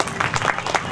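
A brief burst of clapping from an audience at a yoga camp, several pairs of hands striking in quick uneven succession, fairly loud and close.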